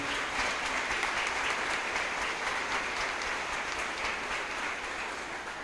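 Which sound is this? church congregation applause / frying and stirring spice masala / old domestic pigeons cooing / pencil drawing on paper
church congregation applause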